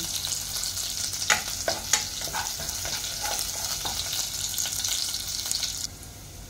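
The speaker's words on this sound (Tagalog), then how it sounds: "Sunod ko na ang bawang. Magpasabayin natin siya gisahan hanggang sa mag-brown." Garlic sautéing in a pan until brown for a Filipino ginataang gulay, a soft continuous sizzle with several sharp stirring scrapes and clinks near the start, fairly quiet and close, dropping off near the end.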